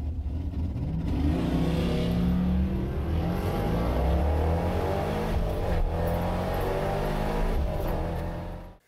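A supercharged LS1 V8 in a C5 Corvette revs hard and pulls up through the range toward 6,500 rpm, a loud, close, continuous engine roar with rising pitch, then cutting off abruptly at the end.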